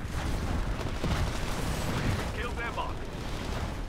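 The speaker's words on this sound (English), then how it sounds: "Oh my God, there's so much explosions!" Dense gunfire and booming explosions from a Titanfall match, a loud continuous barrage of shots and blasts with a person talking over the din.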